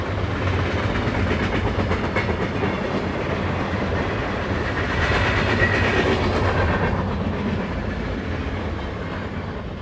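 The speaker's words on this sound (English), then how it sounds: "The end of the day is graced by an eastbound double stack as it threads its way through town." An eastbound double-stack freight train passes through a small town, a loud, sustained rumble with steady clickety-clack of wheels on rail joints, swelling midway and slowly easing toward the end.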